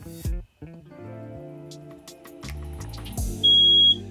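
Smoke-type fire alarm in an RV sounding a steady high electronic beep near the end, loud and close, over a busy mixed background of music-like tones.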